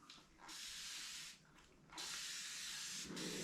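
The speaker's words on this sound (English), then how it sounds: "I'm gonna take my spray bottle" A small mister bottle sprays fine mist onto an upholstered fabric chair during painting, giving two longer soft hissing bursts and a short third one, close and fairly quiet.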